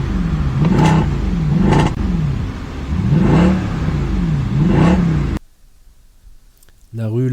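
A car engine is revved repeatedly in loud, rising and falling bursts, four or five throttle blips in a row, then it drops to near silence before a short sound at the end.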